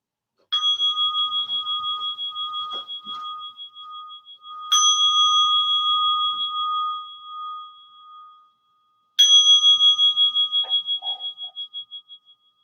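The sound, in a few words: meditation bell rung three times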